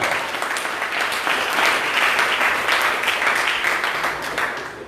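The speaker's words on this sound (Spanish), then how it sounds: "Denle un fuerte aplauso al Señor en esta hora." A church congregation breaks into loud, sustained applause, a dense continuous wash of many hands clapping that holds steady throughout with a slight swell in the middle.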